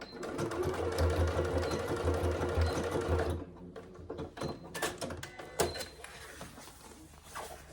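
A domestic sewing machine back-stitches across the top of a divided inner pocket on a fabric wash bag. A steady, loud motor whir runs for about three seconds, then gives way to short stop-start bursts and clicks.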